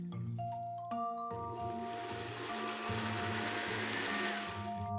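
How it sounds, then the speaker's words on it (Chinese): A blender starts up after a second, whirring with a rising, rough churn as it chops garlic, Thai bird's eye chillies, red chillies and carrot in water, over soft tonal background sounds. "将它放进搅拌机里，然后加入100克的水"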